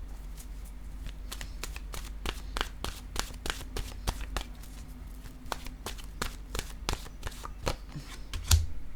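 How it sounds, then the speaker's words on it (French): Oracle cards from an intuitive soul oracle deck being shuffled by hand, a steady run of quick crisp riffling flicks, close and alone, ending with a slightly louder knock as the deck settles. "Je vais piger une carte de mon oracle de l'âme intuitive maintenant."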